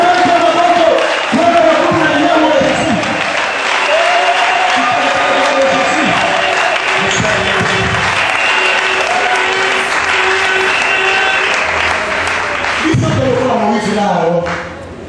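A church congregation claps and cheers at length, loud and steady throughout, while a preacher's voice carries over the crowd with shouted phrases and a few vocal cries breaking through near the end.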